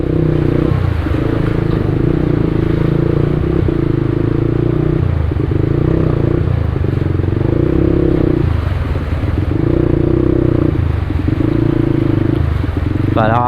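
Motorcycles ride through a flooded city street in Malolos during monsoon rains, with a steady engine drone rising and falling in repeated passes and someone talking over it.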